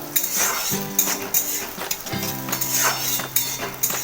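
Pointed gourd bharta with garlic being stirred and mashed in a pan, a run of repeated clinks and scrapes of a utensil against the cookware, fairly close and steady, with no talking.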